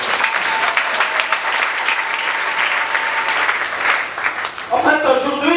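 Church congregation applauding during a Pentecost service: loud, dense, sustained clapping from a crowd filling the room, fading near the end as music or a voice begins to come through.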